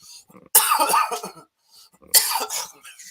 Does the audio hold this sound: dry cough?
yes